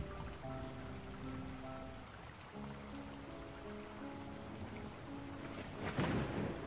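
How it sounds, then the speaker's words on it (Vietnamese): Steady rain falls while thunder rumbles low and continuously underneath, swelling into a louder crack of thunder near the end, with no voices. "Ngoài kia mưa vẫn cứ không ngừng rơi."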